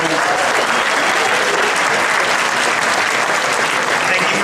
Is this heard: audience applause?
yes